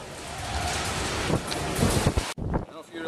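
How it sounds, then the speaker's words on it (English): Pea-sized hail falling during a thunderstorm in Mineola, a dense steady patter and rush with wind buffeting the microphone, cut off abruptly near the end. "There's hail on a fall. You can hear it. Yep, little like pea-sized hail."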